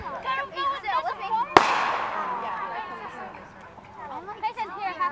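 A small backyard firework bursts with one sharp, loud crack, followed by a crackling, fizzing tail that fades over a couple of seconds, with children and adults talking before and after.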